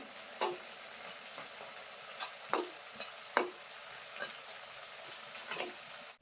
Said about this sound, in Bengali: এবার আমি উল্টে দেবো এক সাইড ভাজা হয়ে গেছে